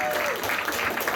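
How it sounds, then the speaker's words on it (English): Audience applause at an anime convention's Who Wants to Be a Millionaire game show, a short burst of crowd clapping with some voices mixed in. "Let's give her a round of applause."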